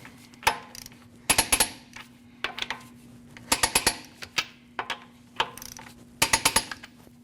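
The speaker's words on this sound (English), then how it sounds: "we're going to torque these at 100 foot-pounds in a crisscross manner." Torque wrench tightening the wheel lug nuts on a Jeep Cherokee, with bursts of rapid ratcheting clicks repeated in short groups, close and fairly loud.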